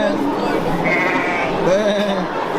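A ewe bleating close by, a wavering nasal cry and a second shorter bleat over a busy outdoor background, with people talking nearby.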